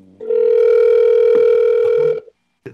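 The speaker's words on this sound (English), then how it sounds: "Ring, ring. Ring, ring." A telephone call rings through as a single loud, steady electronic tone. It holds for about two seconds, cuts off cleanly and is followed by a faint click.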